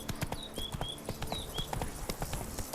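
Hooves of the horse Roach galloping in The Witcher 3, a fast steady clip-clop close up, with faint high whistling tones drifting over it.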